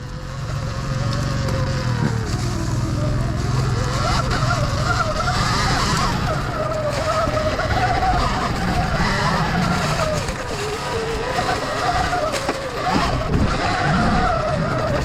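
A Surron Ultra Bee electric dirt bike ridden off-road over damp ground gives a continuous loud whine with rising and falling motor pitch and rough tire and terrain noise throughout, close to the rider, no talk.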